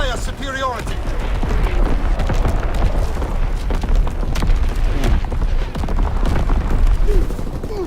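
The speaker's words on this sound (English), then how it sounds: "Dropping Fritz X-bomb." Heavy bombardment from a Fritz X bomb in the game Destiny 2: a continuous loud rumble of booming explosions and rattling gunfire, with voices shouting over the din.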